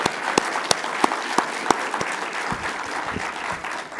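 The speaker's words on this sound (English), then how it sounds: "And can we just give Liz another round of applause for..." Audience applause at a climate summit's closing session, a dense steady wash of clapping with a few sharp louder claps standing out, fading slightly toward the end.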